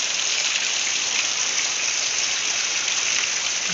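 Heavy rain pours steadily over a farm field, a dense, constant hiss of drops with no pauses, close and loud throughout.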